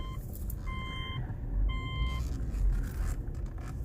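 A 2006 Subaru Tribeca 3.0L with a cylinder-one misfire backs up on a car lot. A reversing beep chimes several times over a low, rough engine rumble, faint and steady, with no voices.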